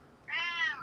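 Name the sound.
cat meowing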